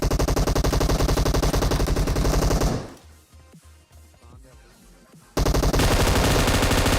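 Rapid, loud automatic gunfire bursts in the video game PUBG, near and continuous, cut by a few seconds of quieter game sounds with scattered shots before the heavy firing resumes; no speech.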